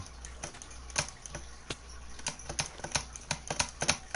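Computer keyboard typing during a Minecraft session, a rapid irregular run of sharp key clicks that builds into denser bursts toward the end, close-miked with no talking.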